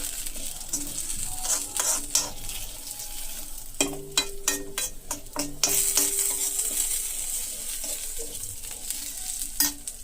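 Ingredients fry in a spoonful of oil in a pan, giving a steady soft sizzle with several sharp clinks and scrapes of stirring, close and clear with no talking.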